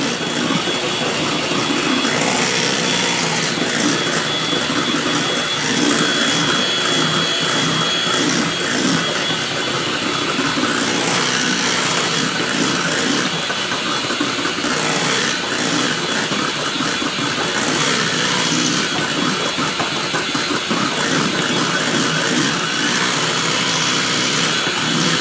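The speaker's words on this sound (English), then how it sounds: "The more you move the mixer, the quicker it'll mix, instead of holding it in one spot." A handheld electric mixer whips meringue for a homemade cheesecake, a steady, close, whirring hum that runs unbroken throughout with no talk.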